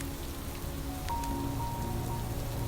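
Steady rain streams against window glass, a continuous close patter of drops with faint fireplace-room ambience beneath, no voices.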